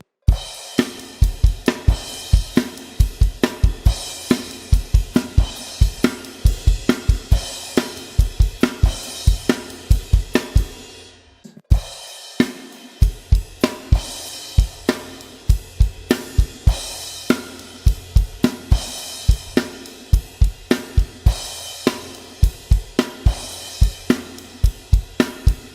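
A drum kit plays a driving chorus line from a song, with punchy kick and snare hits and crash cymbal accents in a steady repeating pattern, loud and close, pausing once briefly midway and then resuming.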